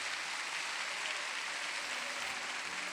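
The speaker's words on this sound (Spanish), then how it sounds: "denle unos aplausos al Rey de Reyes" Congregation applauding in a church service, a steady, dense wash of clapping from many hands that stays at an even level for a few seconds with no voices over it.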